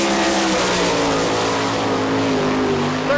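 A World of Outlaws winged sprint car, number 23K, roars through a qualifying lap at a dirt oval in Rossburg, Ohio, in 1999, its engine a loud, steady, sustained high-rpm drone with a slight pitch bend as it passes.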